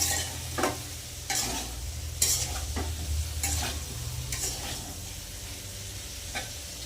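Potato, pointed gourd and cauliflower frying in a pan sizzle softly and steadily, broken by repeated scraping stirs of a spatula at a moderate distance.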